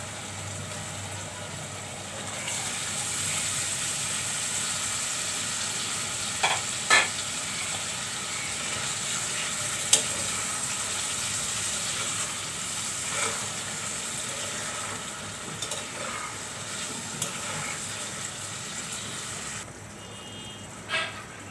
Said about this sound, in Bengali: এই যে নটকা মাছ আমি দিয়ে দিচ্ছি।